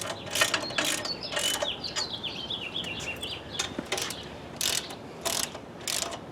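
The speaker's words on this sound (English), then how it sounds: "Start tightening it down." A ratchet clicks in quick bursts as it tightens down a pistol mounting rest, several short runs of sharp mechanical ratcheting close to the microphone with pauses between.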